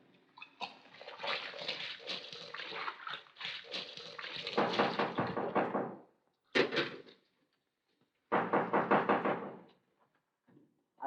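Loud, rapid banging on a wooden house door, long bursts of repeated heavy knocks with short pauses between them, some sharp single thuds, close and forceful, no talk.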